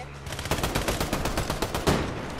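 Rapid gunfire in a team shooter video game crackles in dense bursts of repeated shots, loud and close, with one heavier blast near the end and no talk over it.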